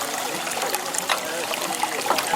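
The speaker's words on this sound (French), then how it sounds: "On compresse, le jus coule, hop, il arrive là-bas" Apple juice trickling and dribbling from a press at a village cider-pressing event, a steady wet gurgle with small splashes at close range, with faint voices in the background.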